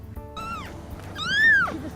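Feral cats at a Spokane home meow twice in quick succession, the second call longer, louder and rising then falling, over low background rumble.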